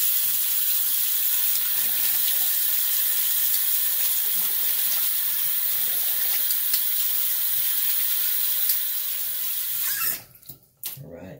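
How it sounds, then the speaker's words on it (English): A bathroom tap runs in a steady, close hiss for about ten seconds while hands are rinsed after a shave with soap and serum, then it is shut off, leaving brief splashes and drips. "I'm gonna rinse my hands off real quick."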